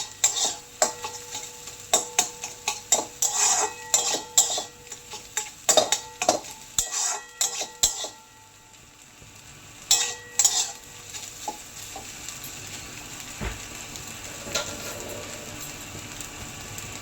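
Maggi noodles with egg and onion are stir-fried in a pan, with a quick run of clinking spatula scrapes and taps against the metal over the first eight seconds, then quieter sizzling with occasional knocks.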